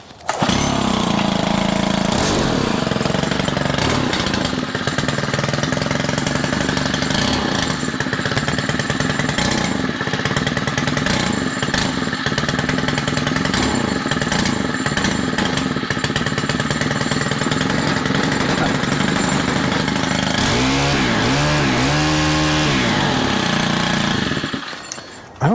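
A Stihl weed eater's small two-stroke engine runs loud and steady at close range for most of the stretch, its tone wavering up and down near the end before cutting out.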